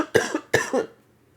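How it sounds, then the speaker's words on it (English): Two close coughs from someone recovering from a cold, each a harsh burst with a short rough tail, near and fairly loud, then quiet. "You'll have to excuse me if I cough."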